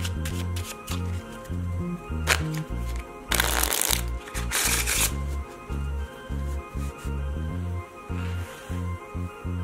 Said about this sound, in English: let's take the cards and shuffle them as we know how